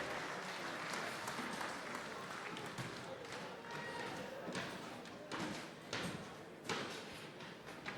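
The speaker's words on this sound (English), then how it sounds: "Give her a round of applause, please." Audience applause for a wool handler at the Golden Shears senior wool handling heats, continuous clapping with scattered thumps and knocks, and a voice talking over it.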